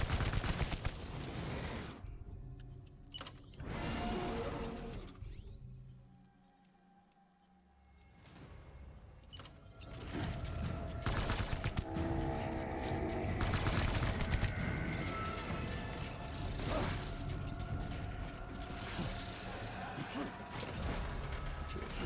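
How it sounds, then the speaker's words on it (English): Video game machine gun firing in United Cities of America, dense rattling bursts of rapid gunfire with mechanical clatter, loud and close, continuing after a brief lull. "it's just a machine gun, so what do I expect?"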